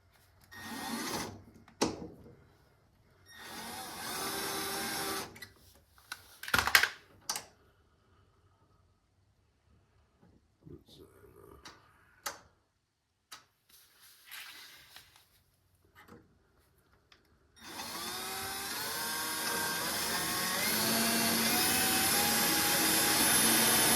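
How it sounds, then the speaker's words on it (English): Short, near bursts of an electric drill whirring on and off, separated by quiet gaps, then a long steady high-pitched drilling whine at the end as it drills a hole. "While I drill the other side."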